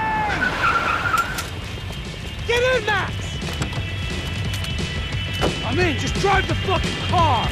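In the video game Max Payne 3, a car skids and races with repeated squealing tire screeches over a rumbling engine, while voices shout over the action.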